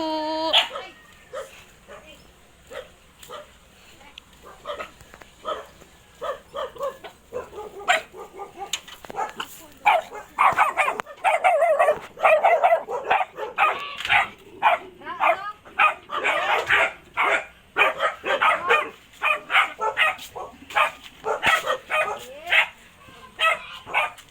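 Several dogs bark and yip excitedly in overlapping bursts, some near and some farther off, building to a steady chorus with occasional whimpers.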